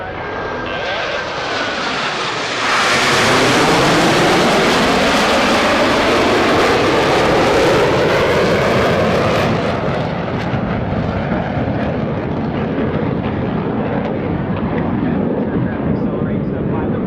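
US Navy Blue Angels jets at the 2018 NAS Oceana airshow roar overhead, a loud broadband jet rush that swells sharply, holds at full volume as the aircraft pass close, then fades into a lingering rumble, with a voice talking over it.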